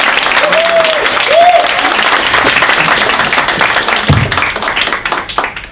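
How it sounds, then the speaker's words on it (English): Applause fills a comedy club after a stand-up set, a thick crowd of clapping with a couple of rising whistles early on, thinning and tapering off toward the end. "Big applause to Cosmin."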